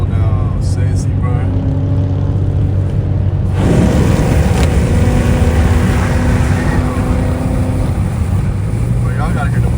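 Dodge Scat Pack car driving, its engine and exhaust giving a loud, steady rumble heard from inside the cabin, with people talking over it throughout.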